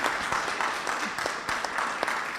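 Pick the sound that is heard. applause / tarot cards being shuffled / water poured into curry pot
applause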